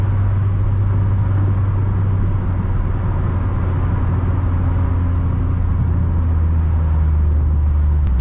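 Interior drone of a 2002 Mitsubishi Lancer cruising on a highway: a steady, loud low engine hum with constant road and wind noise, unchanging throughout, no talking.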